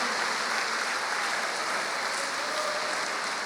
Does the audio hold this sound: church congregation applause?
yes